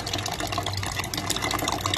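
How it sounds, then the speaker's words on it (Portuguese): Water runs steadily from a water filter tap in a continuous, close-up rushing stream, with no pauses. "é, eh, a saída de água aqui do filtro."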